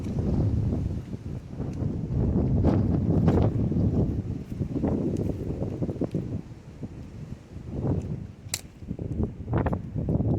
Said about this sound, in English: The wind is blowing really strong.